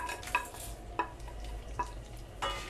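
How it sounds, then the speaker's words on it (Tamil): Lentils, cumin, fenugreek, coriander seeds and dried chillies roast in a little oil in a pan for idli sambar, with soft stirring and sharp spoon scrapes at intervals over a low, steady background. "இது எல்லாத்தையுமே நம்ம வந்து நல்லா வறுத்துக்கலாம்."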